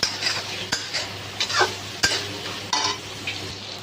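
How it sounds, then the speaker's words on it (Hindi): Finely chopped tomatoes fry in a pan for chhole masala, a quiet hiss of sizzling under scattered scraping stirs and a couple of sharp utensil knocks, close up with no voices. "यहीं पे हम टमाटर डाल देंगे बारीक कटा हुआ। अभी इसको भी मुझे गलाना है।"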